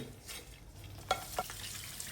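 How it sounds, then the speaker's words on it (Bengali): Stirring vermicelli in a hot pan: a soft sizzle runs underneath while two quick scraping strokes of a utensil stand out, close and fairly quiet. "খুবই কেয়ারফুলি নাড়ানোর উপর রাখতে হবে"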